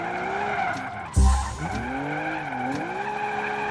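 Video game drift car tires skidding and squealing in long sliding arcs, with one loud thump midway and a steady engine hum underneath.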